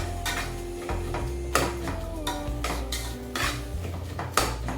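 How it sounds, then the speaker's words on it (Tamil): Tomatoes, onion and masala of chilli powder, turmeric and garam masala for tomato kuzhambu are stirred in a pan, with repeated close metallic spoon scrapes and taps over a soft sauté sizzle and a low steady hum. "கொஞ்சம் வதங்கிட்டு எண்ணெய் கொஞ்சம் லைட்டாக பிரிஞ்சு வர அளவுக்கு தக்காளி வதங்குது"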